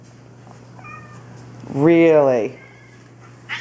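A cat gives one loud, drawn-out meow close by in a home where cats and a dog live, with a few softer short calls before it and a brief voice speaking near the end.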